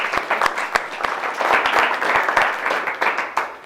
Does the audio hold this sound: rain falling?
no